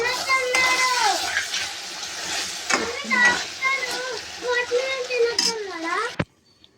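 Boneless chicken sizzles steadily in a hot pan over raised heat while a spoon stirs and scrapes, with a voice talking over it before a sharp clank ends it.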